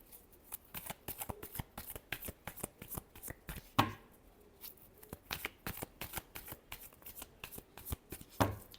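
Tarot cards being shuffled by hand in a steady run of crisp riffling flicks, close up and fairly quiet, with one or two sharper slaps of the deck and no talk.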